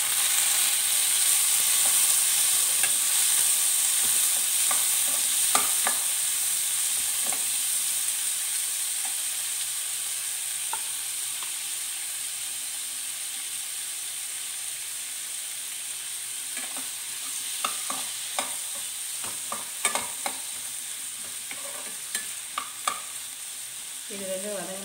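Tomatoes sauté in a hot pan with a steady sizzle and close, repeated scraping and stirring strokes throughout.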